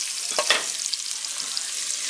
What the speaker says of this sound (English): So first you're gonna fry the beans.